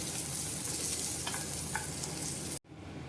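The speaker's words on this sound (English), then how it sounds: "This is 1 full onion. Let this saute." Chopped onion, one whole onion with ginger, sizzles steadily in a hot pan for tomato chutney, a dense even hiss with faint stirring clicks, cutting out abruptly near the end.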